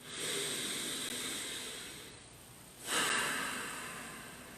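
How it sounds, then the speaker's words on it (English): Slow breaths in and out through the nose, close and soft, with a long airy inhale, a brief pause, then a stronger exhale in a quiet room. "Breathing in and out of the nose."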